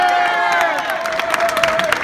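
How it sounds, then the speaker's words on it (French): Crowd cheering and clapping for four players of the Montpellier rugby club as they arrive to present the new 2019/2020 jerseys, a steady roar with scattered whoops and claps throughout, a sustained whistle-like tone running beneath. "Applaudissez-les très très très très fort"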